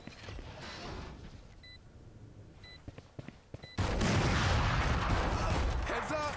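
Gunfire in the Valorant shooter game: scattered sharp shots and clicks over quiet, then a sudden loud burst of sustained firing and chaotic noise that continues to the end.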